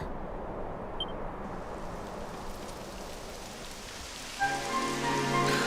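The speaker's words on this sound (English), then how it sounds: "It would have to go and start raining, wouldn't it?" Steady rain in the video game Dragon Quest XI S patters on a surface, a continuous soft hiss; near the end a brighter, tonal layer joins the downpour.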